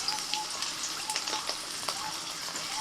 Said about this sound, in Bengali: বড়ি ভেজে নিয়েছি, এবার বেগুনগুলোকেও ভেজে নেব।